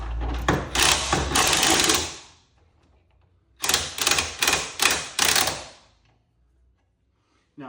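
Ratchet socket wrench snugging a suspension bolt on a 2024 Subaru Crosstrek Wilderness during a lift install, rapid close clicking in two bursts of pulls separated by a short quiet gap.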